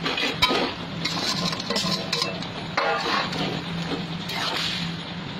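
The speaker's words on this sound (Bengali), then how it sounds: "এবারে সয়াবিনগুলো সব এর মধ্যে ঢেলে দেবো।" Boiled soybeans are poured into a cooking pan, a dense run of wet clattering and scraping with metallic clinks and sloshing throughout, close and fairly loud, with no talking.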